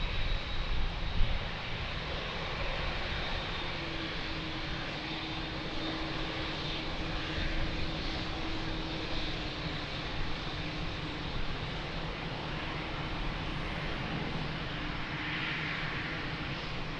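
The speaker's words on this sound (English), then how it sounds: "So first to leave, 787." A Boeing 787 airliner departs Lisbon Airport, a broad distant roar of jet engines that stays steady and fairly faint throughout, with no voices.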